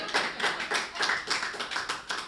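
Audience applause at a Hindi poetry recital, a steady run of crowd clapping with rhythmic surges lasting a couple of seconds, no speech over it.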